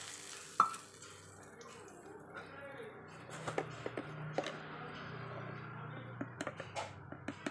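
Tamarind pulp sizzling gently in a frying pan for prasadam pulihora tamarind rice, with a steady low frying hiss and repeated light clicks and taps of stirring.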